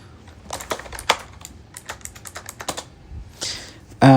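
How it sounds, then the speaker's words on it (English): Keys clatter on a computer keyboard as a password is typed, a quick irregular run of close, crisp clicks with a louder clack at the end. "So I'm just typing my password right here."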